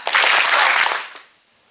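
A crowd of students claps in unison on command during a game, a short loud burst of clapping that stops abruptly after about a second, leaving near silence.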